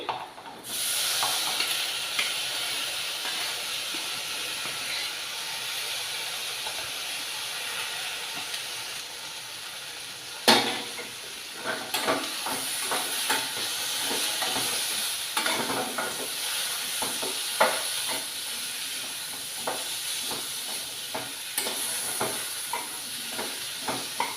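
A steady sizzle from a frying pan with occasional scraping clicks as vegetable curry with sarakanda pieces is stirred, close by and continuous, no talking.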